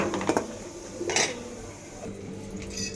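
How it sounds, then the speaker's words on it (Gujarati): Metal utensils clatter and scrape against a pan a few times over a steady low sizzle of cashews and pistachios frying in ghee on low heat. "કાજુ અને કે પિસ્તા પણ આપણે ઘીમાં તળી લઈશું"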